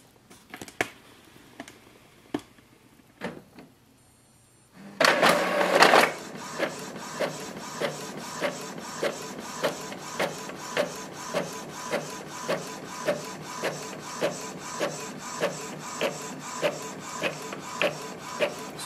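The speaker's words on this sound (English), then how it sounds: "So you can see our printer is printing." An Epson EcoTank ET-2400 printer starts up with a loud whir, then runs through a document with a steady mechanical hum punctuated by regular rhythmic clicks and thumps roughly every second.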